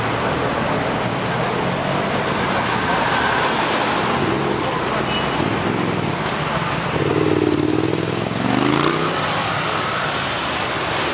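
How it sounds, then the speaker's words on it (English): Heavy traffic on wet streets near Namyeong Station in Seoul after rain: a constant roar of cars and motorbikes with swelling engine passes and a brief droning tone late on, mixed with indistinct nearby voices. "It rained a little bit today, so there's a whack load of traffic."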